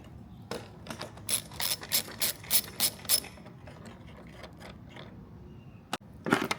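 Ratcheting clicks from a tool unscrewing the fuse box on a 2015+ Dodge Charger, a run of about eight quick, evenly spaced ratchet bursts, then a sharp click and a final short burst, close and clear with no talking.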